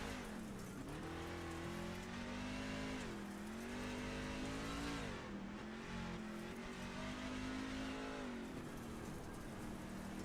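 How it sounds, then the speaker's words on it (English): An onboard race car engine on the Eldora dirt oval drones loudly and steadily, its pitch dipping and climbing as the throttle is feathered out of the turn, with no talk. "you can definitely hear on this onboard shot the amount of throttle control these guys are having to use on exit there"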